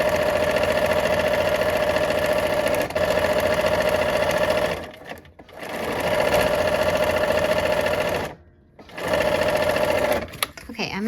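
A sewing machine stitches fabric with bias edges in long, fast, loud runs, pausing briefly twice between bursts, with a faint click at the end.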